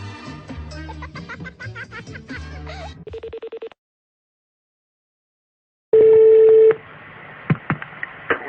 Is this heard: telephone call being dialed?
yes